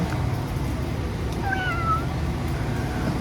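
A single faint cat meow rising and falling over steady loud background rumble, brief and somewhat distant.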